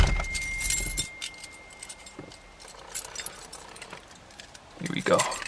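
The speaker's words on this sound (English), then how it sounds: "grab my keys" Keys jangle near and bright for about a second, then quieter metallic clinks and rustles follow, with a last burst of jingling near the end as the car keys are picked up.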